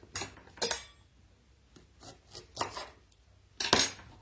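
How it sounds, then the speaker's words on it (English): A spoon scraping the skin off fresh ginger root for a smoothie, heard as a handful of short, close rasping scrapes in irregular bursts separated by quiet gaps. "we'll go back to our peeling with the spoon"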